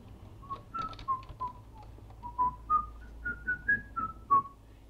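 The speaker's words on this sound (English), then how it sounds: "Yeah, I can whistle." A person whistles a short rising melody of distinct, clear tones, close and alone with a quiet background hum.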